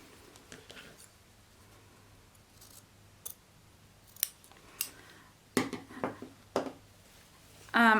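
Scissors snip fabric to the stitching at a dress bodice corner, a handful of crisp, close clips spaced irregularly over quiet background.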